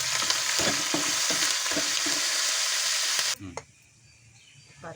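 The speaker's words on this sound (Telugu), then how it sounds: "కరివేపాకు కూడా ఇలా కరకరలాడేలాగా వేయించుకోవాలి ఫ్రెండ్స్." Curry leaves fry in hot tempering oil for a tomato and cucumber roti chutney, making a loud, steady sizzle with a few stirring knocks before it cuts off abruptly, leaving quiet clinks.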